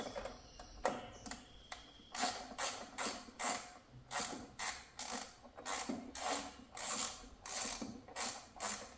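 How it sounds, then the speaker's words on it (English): A hose clamp being worked off a Subaru engine during engine removal, heard as a rapid run of close, sharp ratcheting clicks in short bursts, fairly loud and with no talking. "Get this hose clamp off here."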